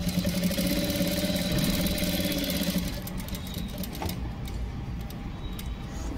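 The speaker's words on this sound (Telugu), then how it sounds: "పైపింగ్ మీద కుట్టు వేయకుండానే ఓన్లీ పలక కుట్టు వేసుకుంటూనే రావాలి." A sewing machine runs steadily as thread piping is stitched along the square neckline of a blouse, whirring loudly for about three seconds before it stops. A quieter background hum and a few faint clicks follow.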